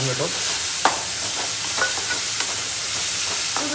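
Chopped onion and tomato sizzling and frying in a pan for Maggi noodles, a constant hissing sizzle with a few soft scrapes of a spoon stirring, close by and steady, no talk.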